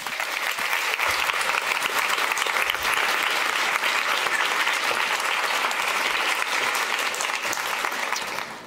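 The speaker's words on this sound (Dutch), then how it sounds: "En dan wil ik jullie nu vragen om Mieneke Schipper een heel warm applaus te geven." Warm, steady applause from a lecture audience greeting the author Mineke Schipper, a broad even roar of clapping that holds for over eight seconds and fades slightly at the end.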